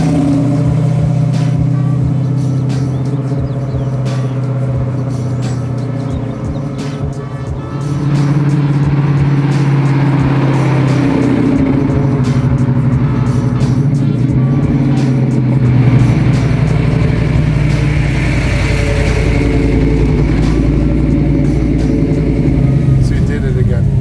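Big block engine of a 1967 Chevy Chevelle restomod rumbling loud and close while cruising on the street, a steady deep drone with a brief dip and then a swell as it pulls, with some talk over it.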